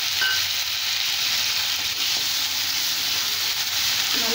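Onion with ginger-garlic paste sautés in a pan for paneer butter masala, giving a dense, even sizzle throughout with faint stirring scrapes near the end and no talking.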